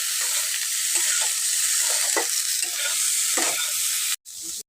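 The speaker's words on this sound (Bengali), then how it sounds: "হলুদের সঙ্গে ফুলকপিটাকে ঘেটে নেব।" Cauliflower is stirred with salt and turmeric powder in a hot pan, a close, loud sizzle broken by scraping strokes that cuts out abruptly just before the end.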